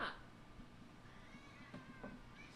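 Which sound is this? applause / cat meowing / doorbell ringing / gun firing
cat meowing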